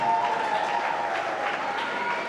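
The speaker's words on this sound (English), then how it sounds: "huge round of applause." A crowd at an international MMA cage fight event applauds for the fighters, a dense, steady wash of clapping with some cheering mixed in, sustained throughout without pause.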